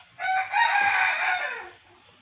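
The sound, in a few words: chickens clucking and crowing near the kitchen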